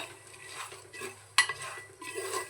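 Black chickpeas stirred and dry-roasted in a pressure cooker over full gas flame, a steady scraping rattle of hard grains against metal with occasional sharper clinks, close and continuous with no voices.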